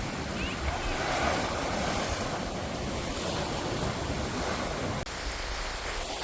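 Sea waves wash and wind rushes steadily along the Jeddah corniche on an overcast day, a dense, continuous roar with a brief dropout near the end.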